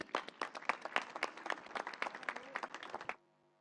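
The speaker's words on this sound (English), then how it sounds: "Big round of applause for them." Audience applause at a university ceremony for the presentation of the Alumni Excellence Award 2022, brisk dense clapping for about three seconds before it cuts off sharply into quiet.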